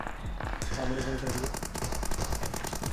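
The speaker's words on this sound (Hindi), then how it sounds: "वो देखो फायर पे फायर हो रहा था" Rapid gunfire in the mobile battle royale game PUBG, played on an iPhone 7 Plus, crackles in dense repeated bursts close up throughout, with a voice talking over the shots.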